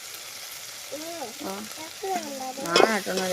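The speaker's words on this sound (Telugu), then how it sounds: "మొత్తం బాగా ఫ్రై అయిపోయినాయండి" Masala for paneer biryani fries and sizzles in a pan with a dense, steady crackle, while a person speaks briefly over it.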